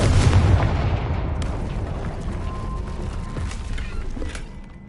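The Confringo spell explosion in Hogwarts Legacy, a single loud fiery blast at the start whose rumbling boom and crackling debris decay slowly over several seconds.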